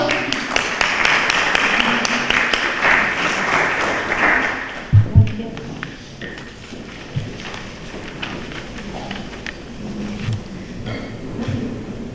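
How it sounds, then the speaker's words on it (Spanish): An audience applauds students at a judicial-branch training session on a court clerk's work, broad clapping for about five seconds, then a few sharp knocks, with scattered taps and light room noise as it dies away. "un aplauso para los chicos"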